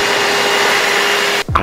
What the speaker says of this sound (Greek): Η ηλεκτρική μου σκούπα έχει LED φωτάκια.